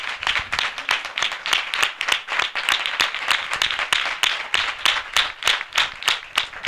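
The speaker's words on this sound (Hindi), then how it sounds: "हम जोरदार ताली से उनका स्वागत करें।" A congregation at a spiritual revival assembly claps loudly and in unison, sharp rhythmic beats repeating steadily in a clear regular pulse, close and strong throughout.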